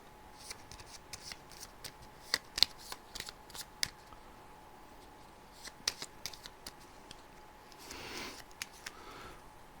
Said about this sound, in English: we'll reshuffle the monster discard back into the monster draw pile